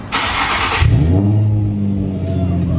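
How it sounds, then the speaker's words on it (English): A Nissan 350Z with a newly installed exhaust cranks and fires up, a brief starter whir giving way to a loud, rumbling idle close by, with no talking over it. "So let's lower the car now, turn it on, and see how it sounds."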